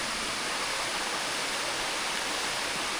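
Helton Creek Falls in North Georgia pours crystal-clear water in a dense, unbroken roar of falling water that holds steady and fairly loud from start to finish.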